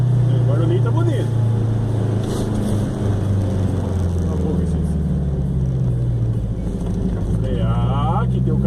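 A Chevrolet Chevette 1.6 S with a 4x1 exhaust header, engine running with a steady, loud, low rumble throughout, the drone shifting slightly as it continues.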